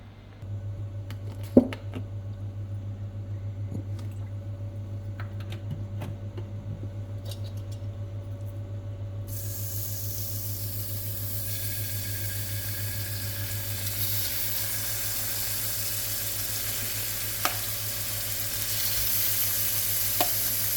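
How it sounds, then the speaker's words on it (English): Beef browning in a hot pan inside a large casserole dish, a steady sizzle that swells and brightens midway, with a few sharp clicks and scrapes of stirring over a low hum. "I'm browning the meat in a hot pan until it's nice and seared"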